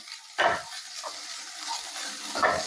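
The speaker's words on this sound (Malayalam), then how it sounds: "ഇനി നമുക്കിതൊന്ന് നന്നായി ഇളക്കി കൊടുക്കാം" Egg semiya with beans is stirred in a pan, two distinct scraping strokes spaced apart over a faint frying sizzle, close and fairly quiet.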